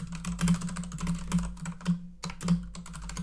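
Quick, uneven clatter of keys on a computer keyboard, close and clear, with several short bursts separated by brief pauses.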